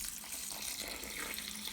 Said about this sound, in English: I'm pouring in another ½ litre of bottled water into the comb.